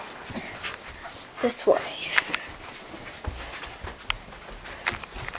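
A dog whimpers and yips in an animated adventure scene, short whines rising over close dialogue and footstep-like clops, with a brief louder burst midway.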